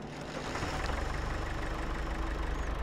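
A John Deere tractor engine runs at a steady, loud idle with a low rhythmic chug and a faint knocking pulse, close by and alone, no talk over it.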